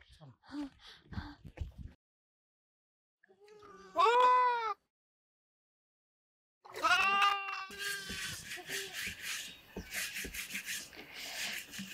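Sheep or goats bleat in a rural farm setting: a short burst of bleating, then after a pause a longer run of overlapping, fairly close bleats, with rustling and a voice talking earlier in the clip.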